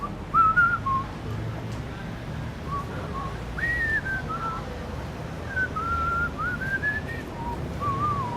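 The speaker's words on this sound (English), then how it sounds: "I'm just whistling some freaking EDM song" A person whistles an EDM song tune, bright melodic phrases coming and going over a noisy, murmuring indoor background, moderately close and fairly soft.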